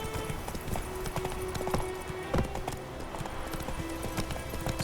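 Roach the horse gallops in The Witcher 3, hooves clip-clopping in a steady rapid rhythm close by, with a snort or whinny and game ambience underneath.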